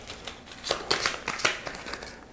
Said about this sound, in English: you're gonna shuffle these cards,